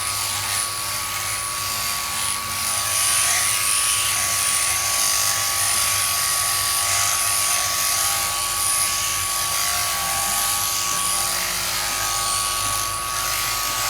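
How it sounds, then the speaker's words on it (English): Electric shears run continuously through a sheep's fleece during shearing at a barn, a steady close mechanical buzz with no talking. "Now, I'm so glad you can watch this shearing."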